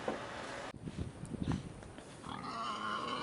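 Pigs and piglets grunt on a farm, a busy cluster of low snuffling grunts in the first half that gives way to a steadier ambient hum, with no talk.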